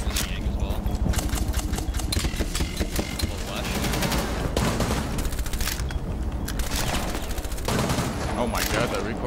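Sustained automatic rifle fire in Rainbow Six Siege, dense rapid shots rattling close and loud, with brief gaps between bursts and other game sounds mixed underneath.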